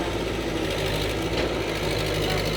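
A car engine idles under heavy load from the running air conditioning, with a steady, rough mechanical drone and faint rattling, its load holding constant throughout.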